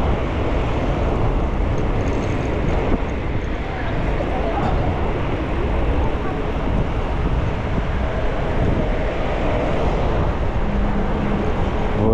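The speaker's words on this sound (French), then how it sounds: "c'est venteux." Strong wind in Sidi Bel Abbès, Algeria, roars steadily into the microphone with a dense, broad rumble, along with faint background sounds, lasting the whole time.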